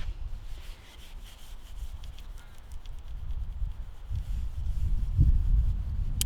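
Close rubbing and scrubbing as wooden furniture is polished with a flour and vinegar paste, a continuous soft friction that grows a little heavier toward the end, with faint knocks; nobody speaks.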